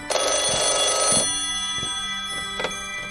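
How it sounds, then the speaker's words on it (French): A telephone ringing with a bright, rattling bell burst at the start, then fainter, shorter rings that trail off over a few seconds, with no talking. "Lorsque Sanoma m'appelle sur cet appareil, c'est qu'il a quelque chose d'important à m'annoncer."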